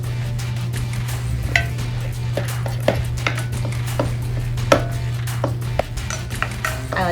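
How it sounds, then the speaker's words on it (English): Raw ground turkey mashed in a microwave-safe container, producing a rapid series of soft taps and squishy knocks from a utensil, close up, over a constant low electrical hum. "I like to mash mine up a little bit beforehand."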